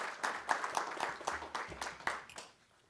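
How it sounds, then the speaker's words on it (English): A short burst of scattered clapping from a small crowd at a board meeting, sharp claps overlapping for a couple of seconds before fading out. "Let's do a round of applause."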